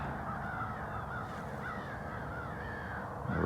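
Crows caw faintly in the distance, almost buried under a steady, loud rush of wind or outdoor noise that runs the whole time.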